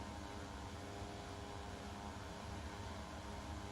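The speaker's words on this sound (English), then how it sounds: "Aircraft starts to accelerate." Beechcraft 99 turboprop airliner in the MSFS 2020 flight simulator at full power on its takeoff roll, a steady broadband engine and propeller roar holding level and loud throughout, with no talk.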